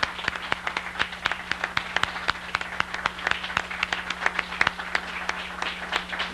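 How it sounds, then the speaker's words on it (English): An audience applauds at the WCAT annual meeting and awards night of 1999, steady scattered clapping from a crowd continuing for several seconds with sharp individual claps standing out over a low hum. "let's give another round of applause to Casey Quinn"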